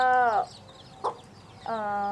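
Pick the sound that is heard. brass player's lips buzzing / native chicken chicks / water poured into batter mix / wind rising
native chicken chicks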